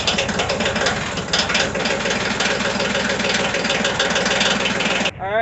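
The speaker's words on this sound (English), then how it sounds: "I always like the sound of those diesels whenever you start them up, whenever it's real cold outside" A cold diesel tractor engine idles steadily just after starting on a freezing farm, a loud, close, even rumble that runs unbroken before cutting off abruptly near the end.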